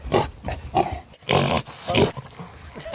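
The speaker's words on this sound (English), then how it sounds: "the pig sound will be played at a agreed upon and timely and well-intentioned time" A pig grunts and snorts as a sound effect played on a podcast, in several loud, rough bursts separated by short pauses.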